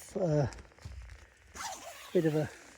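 A tent's T-zip mesh door is unzipped in two short ripping pulls with a pause between, close and crisp, while someone talks in between the zips.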